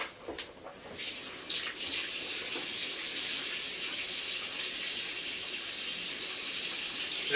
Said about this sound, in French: J'espère que tout le monde entend le flux d'eau chez moi.